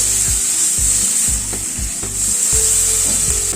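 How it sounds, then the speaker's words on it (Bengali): Capsicum stirred and fried in a pan for a pabda fish curry, loud continuous sizzling cut by repeated rhythmic thuds and scrapes of the spatula, close and without speech. "ক্যাপসিকামটা দিয়ে মিনিট 2 একটু নাড়াচাড়া করে নিলাম।"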